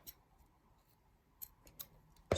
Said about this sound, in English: I'm going to use this one as a guide to cut the other 3 pieces